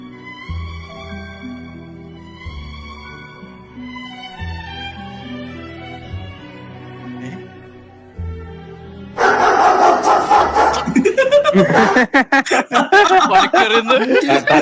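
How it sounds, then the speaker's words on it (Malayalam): Soft melodic tones play first, then a dog barks loudly and repeatedly in close, rough bursts that dominate the end. "തലതിരിഞ്ഞൊരു പട്ടി."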